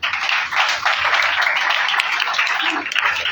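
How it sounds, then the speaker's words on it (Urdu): A church congregation claps joyfully at a Palm Sunday service. The applause is steady and fairly loud, a dense wash of many hands with no voices. "پھر شادمانی کی تالیاں بجائیں"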